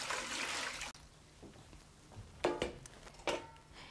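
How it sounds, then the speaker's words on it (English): Water from sprouting beans is tipped out of a colander: a brief rushing pour, then silence, then a few short splashes and trickles close by, with no speech. "And then you can throw off this water."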